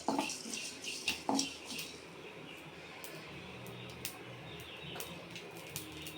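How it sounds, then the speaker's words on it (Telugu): Mustard seeds splutter in hot oil in a pan while a fish curry is prepared: scattered small pops and crackles, faint and irregular, over a soft steady sizzle, with a few louder clinks at the start. "ఈ ఆవాలు చిట్పట్టుకున్నంత వరకు వేయించుకోవాలి"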